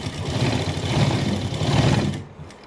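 A sewing machine stitches a sleeve onto a garment in a steady, close mechanical whir lasting about two seconds, then stops abruptly into quiet.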